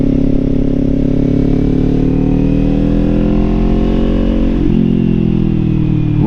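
A 400 motorcycle engine drones steadily while riding in third gear through Suches, Georgia, a loud, close, even hum with a brief shift in pitch near the end.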